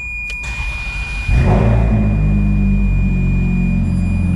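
A Ferrari F430 and a 2006 Ford GT sit nearby as an engine cranks and fires up, a sudden loud burst settling into a steady deep idle rumble with a faint high electronic tone in the background.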